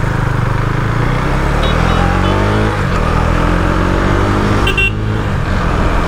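A KTM Duke 390 motorcycle engine runs loud and close, its pitch rising and falling through repeated revs, with no one talking over it.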